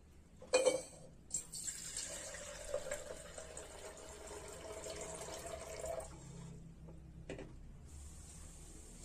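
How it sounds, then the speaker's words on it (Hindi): Water runs steadily from a tap for several seconds while rice is washed, splashing softly into a basin, with a few clinks near the start and end. "मैंने ये दोबारा फिर दो पानी से चावल को धो दिया"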